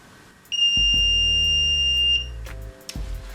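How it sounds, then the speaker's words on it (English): A Gel II steam gel remover beeps at the end of its cycle, one long steady high tone over a low droning hum that stops, followed by a couple of soft clunks. "that beeping is the sound of the steamer saying that that cycle is over"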